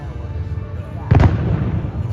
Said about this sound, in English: You can hear the fireworks in the back.